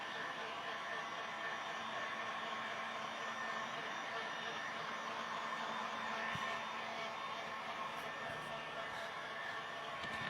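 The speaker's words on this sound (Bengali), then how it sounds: "কাজটা হয়ে যাবে তৎক্ষণাৎ আমাদেরকে ড্রায়ার দিয়ে শুকিয়ে ফেলতে হবে" A dryer blows over a freshly screen-printed fabric, giving a steady, even whooshing roar that holds at constant level from start to finish.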